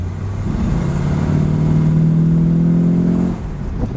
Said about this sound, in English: You hear that little 4-barrel kick in?